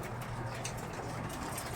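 Racing pigeons in a loft cooing softly and steadily, low throaty burbles close by, against a busy noisy background with no clear talk.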